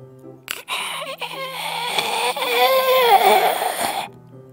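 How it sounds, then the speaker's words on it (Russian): Ragged, whimpering sobs and shaky breathing from a character in the visual novel Doki Doki Literature Club, a close, continuous crying voice rising and falling over a faint background tone. "Звук, очень напоминающий чьё-то дыхание."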